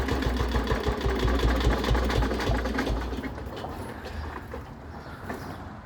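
A Xingtai mini tractor's engine idles with a steady, rhythmic low chugging. It is loud and close for the first three seconds, then eases into a quieter, smoother run.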